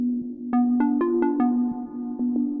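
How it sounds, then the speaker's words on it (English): A smooth, pure sine-wave tone from a Roland S-1 synthesizer holds a low note while brief higher tones step in and out, clean and bright with no other sounds. "you're actually playing a sine wave instead of just a filtered down square wave"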